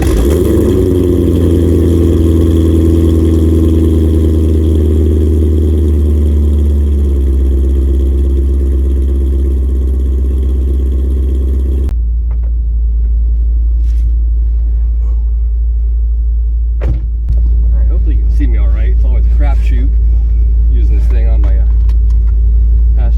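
A Chevrolet Corvette C5 Z06 idles after a cold start, a loud, deep, steady engine rumble close by that holds on throughout, with a slight drop in tone partway through.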